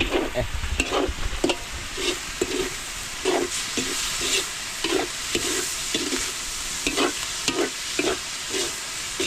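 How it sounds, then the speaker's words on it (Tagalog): Bicol Express is stirred in a sizzling pan, with a loud, continuous frying hiss broken by regular scraping stirs, close by. "At nahalo-haluin lang po para hindi masunog sa ilalim"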